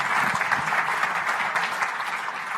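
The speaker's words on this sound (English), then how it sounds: "Ladies and gentlemen, a round of applause." Dense applause from a conference audience at a plenary opening session, steady broadband clapping filling the room at close range for a couple of seconds, with no voices over it.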